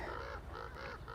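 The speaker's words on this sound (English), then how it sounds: "Those crows are going off, right?" Crows caw outdoors in the morning, several harsh repeated calls in a loose rhythm, moderately distant and fairly quiet against soft background ambience.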